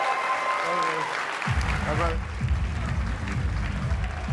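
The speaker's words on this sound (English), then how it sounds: "So give him a round of applause." An audience at a YALCON 2024 event bursts into applause for Vivek Ramaswamy, dense clapping rising abruptly and holding steady, with a voice talking over it.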